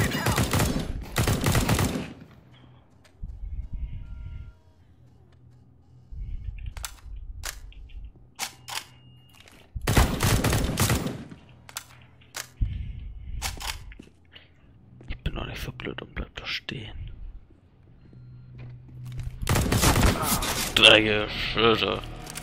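CS:GO gunfire comes in several sharp bursts of shots separated by pauses, loud and close, while a player speaks German between and over them.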